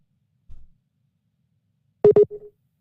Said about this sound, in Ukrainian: Там, На жаль, хтось телефонує пані Катерину